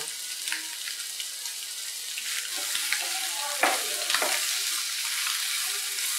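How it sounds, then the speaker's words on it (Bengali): Paneer tawa-fries in a pan with a steady, bright sizzle and crackle of hot oil, broken by a few light scrapes and taps as the pieces are turned. "জাস্ট একটু তাওয়া ফ্রাই মতো করে নেব।"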